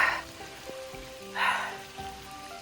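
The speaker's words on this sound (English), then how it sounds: "It's raining" Rain falls steadily on a lake, a soft broadband hiss with a few louder swells of spatter, close and continuous with no voices.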